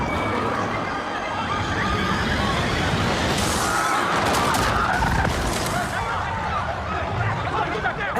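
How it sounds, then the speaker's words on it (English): Inside a church during a funeral, dull muffled pops of gunfire, faint engine revs and distant screams build in a dense, noisy wash, with crowd murmur beneath. "We only hear the faint engine revs, the screams, the dull pops of the gunshots, all growing louder and louder until the SUV crashes in"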